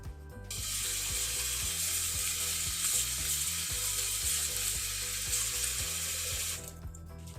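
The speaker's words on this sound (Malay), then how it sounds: "Sekali bilas saja dan toskan air" Water from a tap gushes steadily over chopped bamboo shoots in a pot, a loud continuous splashing rush that starts and stops abruptly, with a low rhythmic hum beneath and no voices.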